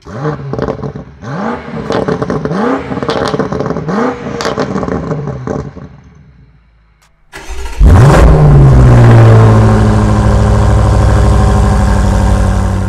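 A 2023 BMW M5 Competition engine revs hard several times in quick rising pulses through its competition exhaust, pauses, then roars loudly and holds a deep, rumbling exhaust note.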